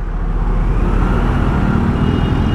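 A KTM Duke 390 engine runs rough and uneven as its petrol runs out, giving a dense, continuous low rumble with irregular pulsing and no clear rhythm.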